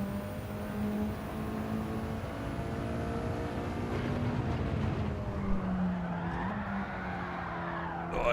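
A Mitsubishi race car in Gran Turismo 7 at the Red Bull Ring drones steadily at high revs while its tyres squeal and slide through a corner, the engine note wavering and dipping as the rear breaks loose.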